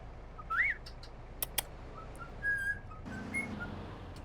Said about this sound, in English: hopefully the birds in the background aren't too annoying